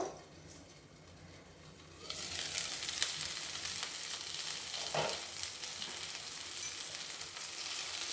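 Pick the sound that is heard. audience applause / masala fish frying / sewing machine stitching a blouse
masala fish frying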